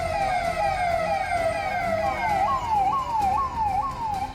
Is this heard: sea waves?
no